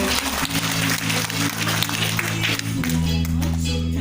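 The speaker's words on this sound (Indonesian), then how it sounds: "tepuk tangan semuanya Bapak Ibu" A seminar audience in Makassar claps together, a dense and loud wash of hands that runs the whole stretch, with a steady low musical hum underneath.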